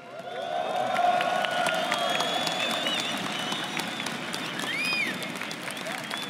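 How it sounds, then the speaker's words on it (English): A Brazilian crowd applauds at the BLAST Pro Series 2019 esports grand final in São Paulo. Sustained clapping fills a large arena, with scattered shrill whistles and cheers rising over the steady roar. "How great is it to be here competing in São Paulo? It's great, man. They're really passionate here"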